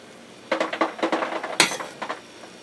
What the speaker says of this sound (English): that's my ice maker in the background. You hear making noise.